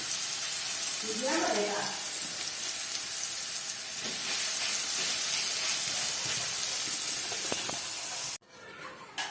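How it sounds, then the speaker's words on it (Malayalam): Soybeans fry in hot oil with a steady loud sizzle and crackle, occasional stirring scrapes, and a voice speaking over it before the sizzle drops away near the end. "എണ്ണ കൂട്ടിട്ടുണ്ട്. ഇത് നമുക്ക് കാച്ചണം."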